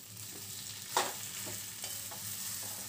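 Mashed potato is stirred with spices in a pan for aloo paratha filling. A quiet, continuous sizzle runs under occasional spatula scrapes, one sharper knock near the middle, and no voices.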